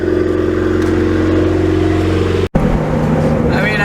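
A car with a Honda H22 engine runs close and loud with a steady droning note, briefly cuts out, then carries on as the car drives off, with voices talking over it.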